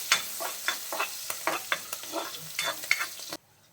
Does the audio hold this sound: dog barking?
no